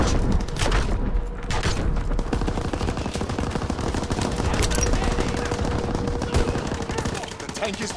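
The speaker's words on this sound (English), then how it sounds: "They fire on the infantry by the tank." Dense, continuous gunfire and machine-gun bursts from a war video game battle with tanks and infantry, loud and unbroken, with faint voices mixed in.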